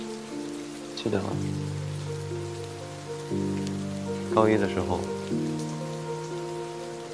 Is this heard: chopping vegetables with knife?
no